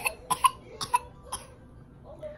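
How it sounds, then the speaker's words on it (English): A small child fakes a cough, a series of short, sharp, forced coughs in quick bursts, close and clear, fading into quiet. "Are you fake coughing?"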